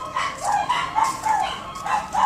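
Dogs bark in short, repeated bursts, several yaps and woofs following one another at moderate distance, fairly loud with a whimpering edge and no one talking over them.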